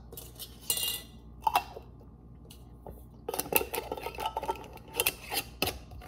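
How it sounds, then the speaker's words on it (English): Homemade salad dressing shaken in a glass mason jar, giving bursts of rattling, sloshing clinks in two main spells with a quieter pause between them. "you just shake it up in a mason jar"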